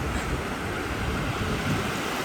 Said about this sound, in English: I love hearing the rush of them waves